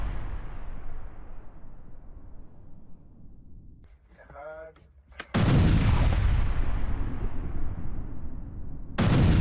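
An IDF artillery strike on Hezbollah positions booms in heavy blasts, with a long rumbling decay, then a sudden loud explosion and another at the end; a brief voice is heard just before the big blast.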